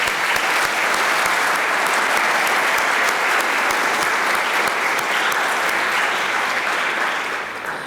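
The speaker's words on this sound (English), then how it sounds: "I think that deserves a round of applause." Sustained audience applause at a university physician assistant white coat ceremony, steady and full from a large crowd throughout, tapering slightly at the end.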